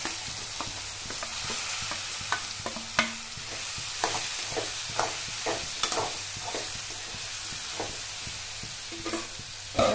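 Bitter gourd sizzles steadily in a hot pan with mustard seeds and curry leaves while a spoon stirs it, scraping and clinking now and then over the continuous frying hiss, close by with no voices.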